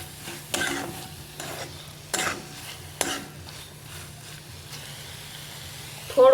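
Raw banana sabzi being stirred with garam masala in a pan, several distinct scraping strokes of a spoon over a low background hiss, close and spaced a second or so apart.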